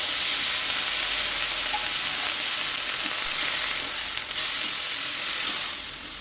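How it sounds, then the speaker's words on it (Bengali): Spices cooked down with tomato and a splash of water fry in a pan for a fish-head cabbage dish, a loud, continuous close sizzle that eases slightly toward the end. "ভালো করে এখন মশলাটাকে কষতে হবে"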